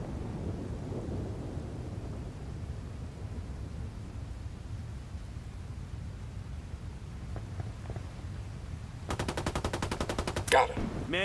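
Video game gunfire: a rapid machine-gun burst of evenly spaced sharp shots near the end, with a louder crack right after, over a steady low rumble of distant battle.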